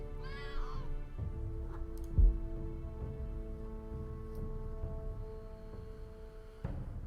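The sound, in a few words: cat meowing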